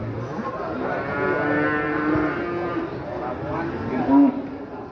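Cattle at a livestock market in Pati moo in long, drawn-out calls, including a louder bellow near the end, over a steady murmur of background crowd noise.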